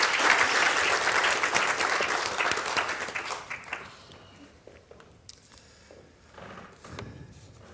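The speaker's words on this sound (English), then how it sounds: "Give them a round of applause." Congregational applause at a Sunday church worship service, a loud burst of clapping from the gathered crowd that fades out after about four seconds into quiet room sound with scattered faint noises.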